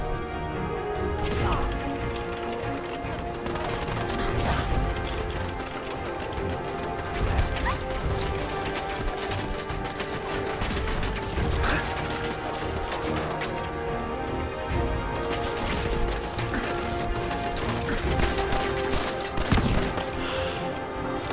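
Gunfire and crashing impacts in the Fallout 4 video game, dense bursts of shots and clattering hits running continuously at a steady, fairly loud level through the whole stretch.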